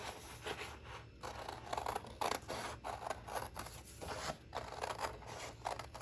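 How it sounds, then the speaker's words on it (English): Close scissors snipping through paper in a series of short, uneven cuts, each a crisp rasping snip, with no one talking. "I'm going to take my scissors and I'm going to cut out my circle"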